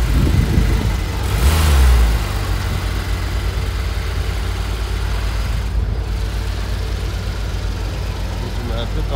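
A Porsche 911 GT3 RS at an open-air car gathering in Vauban, 2023, gives a deep, steady engine rumble with a brief swell early on. Faint background voices sit under the outdoor noise.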